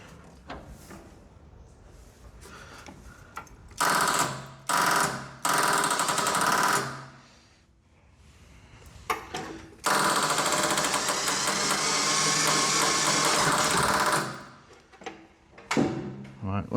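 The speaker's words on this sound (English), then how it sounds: "I think that's just the sound of a flat battery" A front loader's starter cranks on a flat battery in two sustained bursts of harsh, rapid chattering, each several seconds long, separated by quiet gaps with faint background sound.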